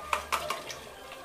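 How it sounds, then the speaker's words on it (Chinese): Chopped pork pieces for home-style red-braised pork tossed into a wok, giving a few sharp clattering hits of metal and food near and close, followed by quieter scraping and stirring with no talk. "切好的嘎嘎下锅。"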